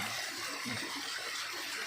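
Mountain spring water flowing in Zambales, a steady rushing wash heard close and alone.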